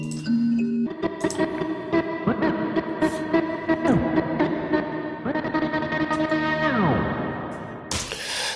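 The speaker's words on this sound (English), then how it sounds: "this is a kind of processed vinyl sample, and we are scratching it" Processed vinyl sample being scratched back and forth, pitch swooping up and down in several swirling sweeps over a layered, effected trip hop musical bed with reverb and ping pong delay.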